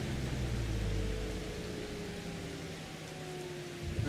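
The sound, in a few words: rain in video game Farming Simulator 25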